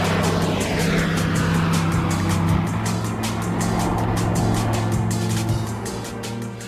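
Vintage and modern fighter aircraft fly together in a military heritage flight, a loud, sustained engine and propeller roar that stays steady throughout, with no talking.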